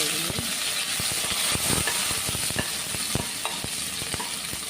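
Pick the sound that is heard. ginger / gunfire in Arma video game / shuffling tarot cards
ginger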